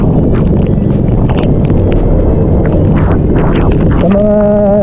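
Very heavy rain pouring down on someone wearing a poncho outdoors, a loud, dense, continuous rush that fills the whole time, with a brief tonal sound near the end.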